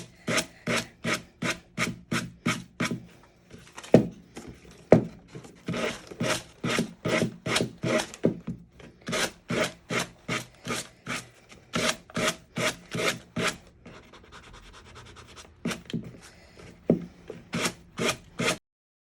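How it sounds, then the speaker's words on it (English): Rhythmic back-and-forth rasping of a sanding block smoothing wood edges, close and fairly loud, in quick regular strokes with a few short pauses. "I'm just sanding off my edges"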